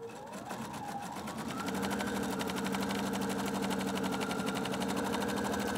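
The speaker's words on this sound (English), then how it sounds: "I'm ready to sew" A sewing machine stitches fabric strips together for strip piecing, starting up and settling into a fast, even mechanical whirr with rapid needle clatter, close and steady.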